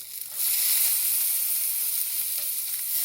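A sample of fresh homemade sausage fries in a pan, giving a loud, continuous close-up sizzle with a brief quieter start before the hiss settles in steadily.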